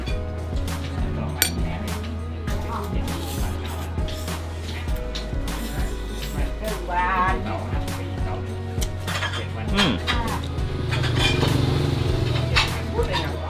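A spoon and fork clink and scrape against a plate while eating a Thai dish in Chiang Mai, with a voice talking over the utensil sounds and a low background hum.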